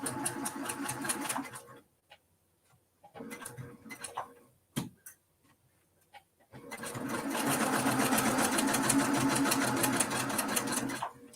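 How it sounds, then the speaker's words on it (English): A sewing machine stitches across a diagonal seam on a wool wall hanging, running in a short burst, stopping for quiet pauses with a few clicks, then humming loud and steady again. "So I'm just 2 stitches over that seam now on the straight seam"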